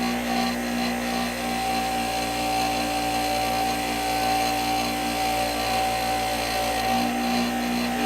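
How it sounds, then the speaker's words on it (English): A wire wheel mounted on a grinder scrubs rust from brake parts, giving an unbroken, even whirring drone with a steady whine that holds close and loud throughout. "I'm using the wire wheel that I have mounted to it"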